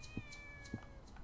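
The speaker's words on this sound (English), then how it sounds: "I can hear her mewing." A kitten meows faintly in the video game Shenmue, two or three soft, high mews within a second over a quiet hum.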